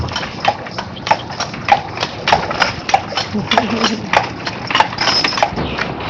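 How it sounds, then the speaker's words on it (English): Carriage horse hooves clip-clop in a steady, brisk rhythm on pavement, close and clear, with people talking over the sound. "Looks like a well-fed horse."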